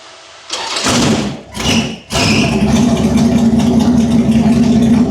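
A V8 motorbike fitted with a 350 Chevy engine cranks in a couple of thumping bursts, catches on the third try and settles into a loud, steady, rumbling idle close by.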